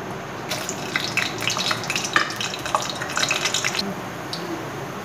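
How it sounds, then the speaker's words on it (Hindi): Whole dried red chillies hit hot oil for a Hyderabadi tomato chutney, bursting into a crackling, spitting sizzle of rapid pops that flares after half a second and tapers near the end. "तो मुझे इसमें ऑयल डालना है, देख सकते हैं। अब मैं सबसे पहले डालूंगी साबित मिर्च,"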